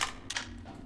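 Pistol shots in the Half-Life 2 video game, a couple of sharp, close cracks within a split second.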